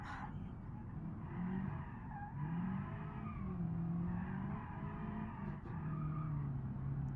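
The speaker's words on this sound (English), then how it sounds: "Hear the open differential just crying away." An open differential whines steadily while the tires squeal in long, sustained wails as a budget car is pushed hard through corners in BeamNG.drive, with the engine droning underneath throughout.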